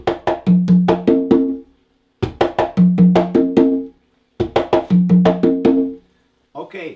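Conga drum playing two bars of a tumbao pattern in three short phrases, mixing low open tones and sharp slaps, with pauses between; a brief vocal sound at the end.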